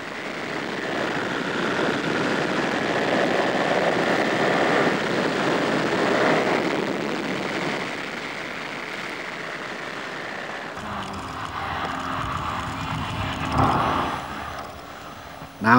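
A light aircraft banks over Blenheim Palace before heading for the English Channel, its steady engine drone continuous and fairly loud, then shifting to a rougher, more broadband roar in the final seconds.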